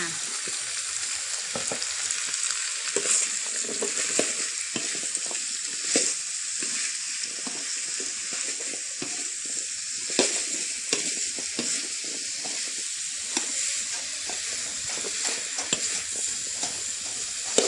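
Pork with chili and squash stir-frying in a pan, with a steady dense sizzle and scattered crackles and stirring scrapes throughout, no voices.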